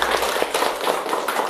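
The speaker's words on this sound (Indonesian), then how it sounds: "tepuk tangan untuk kita semua" Classroom students clapping their hands together after a teacher's call, a brief burst of dense close applause filling the whole moment.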